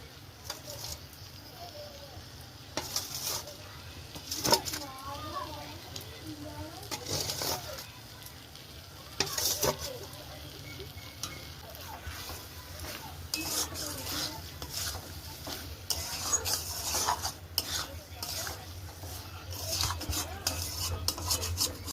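Cashew and poppy seed paste fries in a pan during a home Bengali New Year cooking session, with repeated metal spoon scrapes and clanks against the pot over a soft sizzle, while voices talk at times and a bird chirps faintly.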